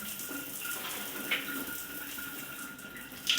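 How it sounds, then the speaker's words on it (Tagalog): Water runs steadily from a newly installed shower, a continuous hissing spray that stays even and close, broken by a couple of brief brighter splashes. "May tubig na tayong lumabas dyan."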